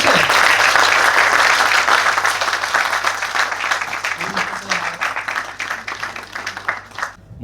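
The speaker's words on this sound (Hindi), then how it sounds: "एक बार सब हाथ उठा के ताली बजा दो।" Dense applause from a mushaira audience, loud and sustained at the start then gradually thinning toward the end, with a steady low hum underneath and faint voices mixed in.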